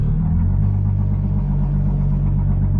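Car engine running on alcohol fuel, a loud, close, steady low rumbling idle that stays even throughout.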